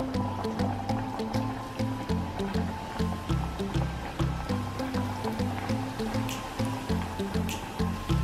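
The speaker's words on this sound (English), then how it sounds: "add your mandazis to the oil now that your oil is hot, and they should bubble gently" Mandazi dough fries in hot oil, bubbling gently with a steady, rhythmic sizzle and frequent small pops and drips. The sound is close and continuous, with no talking.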